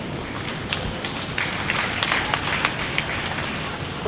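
Audience at a 2020 Dawson County dairy and beef cattle show claps for the junior participants, a steady patter of applause with scattered sharper claps standing out, moderately loud and continuous throughout.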